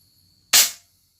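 A single sharp shot from a PCP air rifle just repaired for a leak, a sudden loud crack with a short decaying tail, alone against a quiet background.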